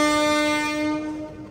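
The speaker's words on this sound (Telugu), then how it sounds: "చాలా పాత షంటింగ్ లోకోమోటివ్." A very old shunting locomotive sounds a long, steady horn, a single sustained tone that stays loud and close for the whole moment before starting to fade at the end.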